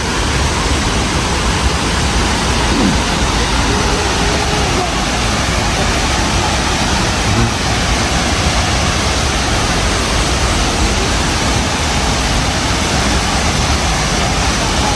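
Steady, loud rushing water from a forest waterfall in Cotabato, Philippines fills the whole stretch, a dense broadband roar with no breaks.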